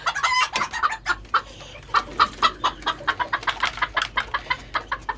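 A Karyağdı İspenç rooster and hens cluck close by in a quick, uneven series of loud clucks.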